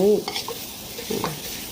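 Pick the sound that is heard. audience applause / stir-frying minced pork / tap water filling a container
stir-frying minced pork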